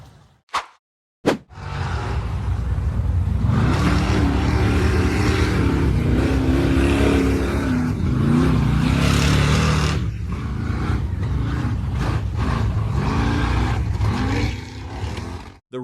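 A red-framed, white-bodied 4x4 off-road vehicle claws up a rough, rocky slope, its engine roaring and straining loudly at close range for about eight seconds before easing into a lower rumble with scattered knocks and crunches.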